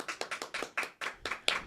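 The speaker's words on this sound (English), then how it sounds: "Cue the round of applause for Dr." Applause for a podcast guest, eight quick claps in an even rhythm from what sounds like a small group, close and fairly crisp, with no voices over them.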